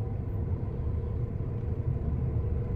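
A car passing close by on a road, a steady low engine rumble and tyre roar holding loud and near for a few seconds with no talk over it.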